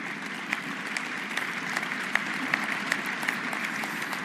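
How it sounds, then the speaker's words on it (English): Steady applause from a large congress audience for Alexander Stubb, Finland's newly elected president, a dense, even wash of clapping with scattered sharper claps standing out, sustained and moderately loud throughout. "Let's give big applause to him."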